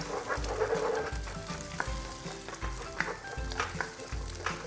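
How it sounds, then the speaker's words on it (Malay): Rice is stirred and fried in a hot pan over raised heat for nasi goreng with prawns, steady sizzling under rhythmic scraping strokes of a spatula roughly every second. "Kita kena kacaukan dia, besarkan api sampai dia agak kering sikit."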